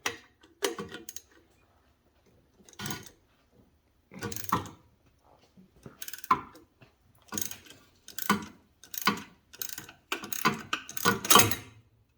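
A ratchet loosens a motor mount bolt on a Jeep Patriot or Compass, short bursts of rapid clicking separated by pauses, growing busier toward the end, close and fairly quiet with no talking.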